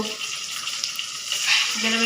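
Steady sizzling of pointed gourd frying in hot oil, close up, with a faint stir or scrape near the end.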